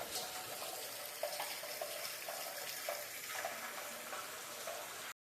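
Rainwater pours steadily into a storage tank, making a continuous faint splashing and trickling with small drips breaking through, and no voices.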